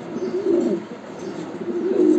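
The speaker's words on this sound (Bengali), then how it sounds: "আসলে এই কবুতরগুলো অনেক রেয়ার, পাওয়া যায় না।" Fancy pigeons, including a grey Danish hen, coo softly and repeatedly at close range in a pigeon seller's loft, with low rolling calls and no talk.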